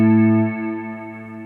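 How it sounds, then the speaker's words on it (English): A sustained electric guitar chord rings out, drenched in reverb and effects, with a long smeared tail that slowly fades. "And then I'm just putting a whole bunch of reverb on there."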